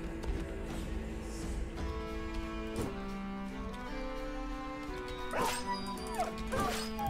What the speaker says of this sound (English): I'm not gonna let your dog surround me.